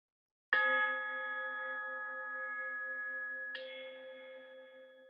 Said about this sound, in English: You'll hear a bell.